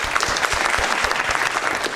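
Studio audience applauding on an Ethiopian family game show as teacher contestants are welcomed, a steady dense wash of many hands clapping throughout.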